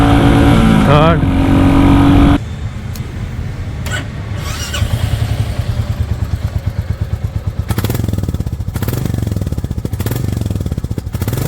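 A motorcycle engine revs loudly, then pulls away with rising pitch and gear changes, the rapid exhaust pulses building steadily.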